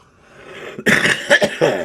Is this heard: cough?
yes